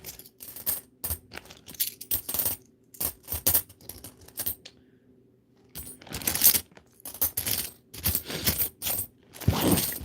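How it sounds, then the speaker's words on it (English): Coins, dollar coins among them, clatter and drop in quick bursts as they are sorted by hand, in irregular clusters of metallic clinks with short quiet gaps between them. "The ones that are not dollar coins, I'm going to just filter out of here."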